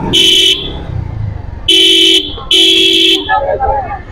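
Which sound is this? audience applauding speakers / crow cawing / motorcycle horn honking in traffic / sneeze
motorcycle horn honking in traffic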